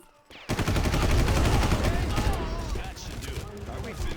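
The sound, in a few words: gunfire in the video game Far Cry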